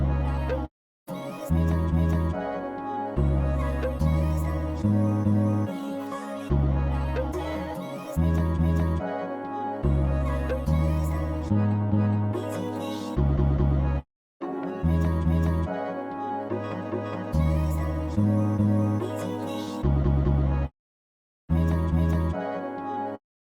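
Chopped vocal sample pattern sliced in Fruity Slicer rides over a punchy beat with deep bass hits, looping in short bars with a few abrupt silent gaps between sections, loud and upfront with no talking.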